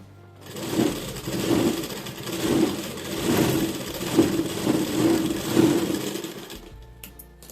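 A sewing machine runs in close, steady bursts of rapid whirring stitches, double-stitching a seam on a three-piece princess-cut blouse. The motor speeds and slows in a rhythmic pulse, then stops near the end.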